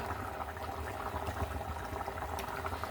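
Steady bubbling of a pot of egg curry at a rolling boil, a continuous low burble with occasional pops, close and fairly quiet, no voices.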